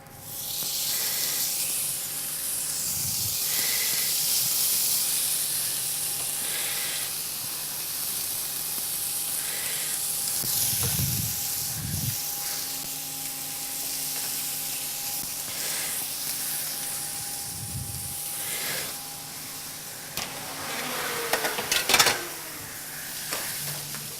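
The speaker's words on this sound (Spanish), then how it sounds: "Tenemos cuidado, removemos un poco para que se mezcle bien todo y marcamos la carne." Magret (duck breast) searing in a lightly oiled pan on low heat: a steady, close sizzle and hiss throughout, with a few soft knocks from stirring and a brief louder crackle near the end. No talking.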